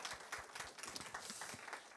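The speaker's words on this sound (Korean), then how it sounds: "우리 시간 그분께 감사의 박수 한번 같이 올려드리겠습니다." A church congregation gives a short round of applause, a faint, dense patter of many hands clapping together.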